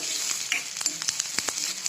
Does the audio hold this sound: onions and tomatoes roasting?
yes